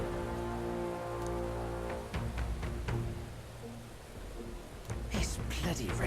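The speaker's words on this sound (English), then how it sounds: "This bloody rain will soak your way through." Rain falling in the video game Metaphor: ReFantazio, a steady moderate patter with scattered droplet hits, heard under a sustained musical tone with a voice speaking.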